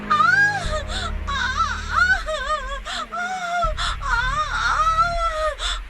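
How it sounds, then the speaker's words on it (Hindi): A woman cries out in pain, giving wailing, rising and falling moans and sobbing gasps. The voice is close and fairly loud, with a low background drone beneath it. "दर्द भरी चीखें और रोने की आवाज"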